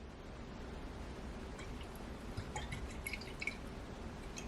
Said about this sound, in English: I'm just gonna add a little bit of soy sauce to this.